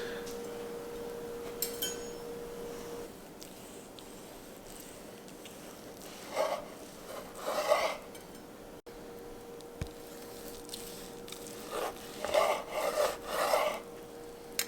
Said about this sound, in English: Just start right in the middle and slice some 1/4 to 1/2 inch slices.